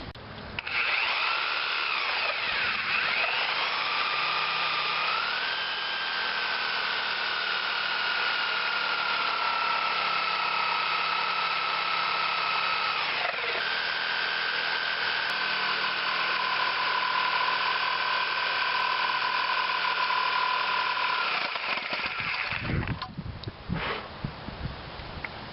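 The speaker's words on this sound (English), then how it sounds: "I've clamped a guide on here to help with this sawzall, to keep it cutting on the line." Sawzall reciprocating saw cutting wood along a clamped guide line, a loud, steady buzzing whine that runs for about twenty seconds with a slight pitch shift partway, then stops with a clatter.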